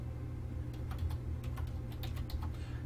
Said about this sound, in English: then you would type in your second